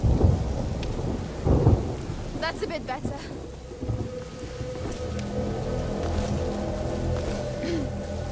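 A thunderstorm in the video game A Plague Tale: Innocence: a loud crack and rumble of thunder up front, then steady rain pattering on surfaces with light wind, continuing alone after a brief stretch of nearby movement sounds.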